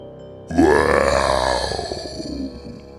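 A single long, loud, guttural burp rolling on for a couple of seconds before trailing off, close up.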